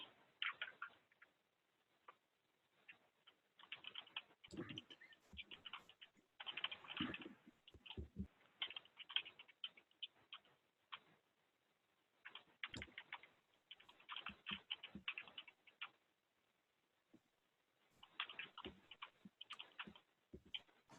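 Computer keyboard typing in quiet, uneven bursts of rapid clicks separated by short pauses, close and soft, with no talking.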